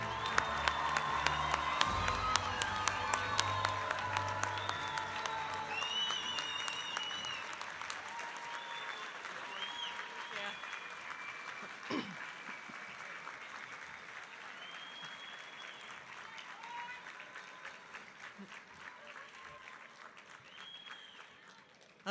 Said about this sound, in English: give the graduates another well-deserved round of applause